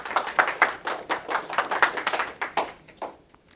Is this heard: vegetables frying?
no